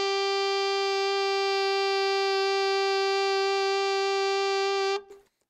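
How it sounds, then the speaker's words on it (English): A single sustained alto saxophone note, E in the middle octave with the octave key held, rings out clear and steady for about five seconds before stopping abruptly, played alone and close. "And there's the E in the middle octave, and that sounds like this."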